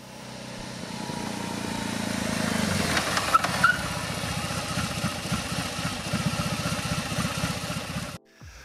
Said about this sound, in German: Ein Boxer, luftölgekühlter Boxer, Zweizylinder mit 1802 Kubikzentimetern Hubraum